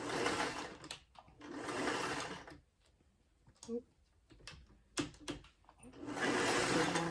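A sewing machine stitches along a fabric edge for a Christmas sew-along pattern, running in several close bursts of rapid whirring separated by pauses with small clicks and handling noises.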